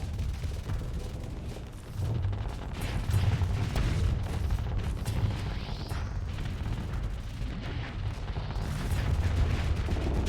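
Reaper torpedoes in the Starsector space combat game fire and detonate: a dense, rumbling stream of booms and blasts running throughout, fairly faint and continuous, with no distinct single impact standing out.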